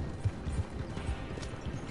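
A horse in the video game Red Dead Online clops along at a walk, soft irregular hoof thuds that sit low and moderately close, with no talk over them.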